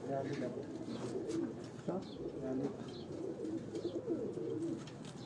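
A Kamgar pigeon held in someone's hand coos softly and repeatedly at close range, its low murmurs running beneath steady conversation among several men.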